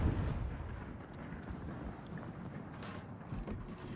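The battleship Petropavlovsk fires gun volleys in a naval video game, heavy booming blasts and rumbling low thunder rolling together with mechanical clatter, dense and loud throughout with no clear gaps.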